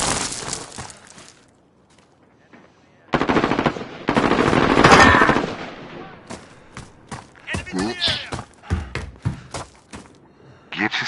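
Rapid automatic gunfire in the video game Modern Warfare, with a short burst at the start, a pause, then long sustained volleys and scattered sharp shots, loud and close, with voices talking over it.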